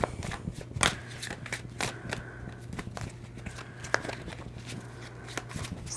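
Tarot cards riffled and shuffled by hand at close range, a run of soft papery flicks and taps, quiet and irregular, with no talk.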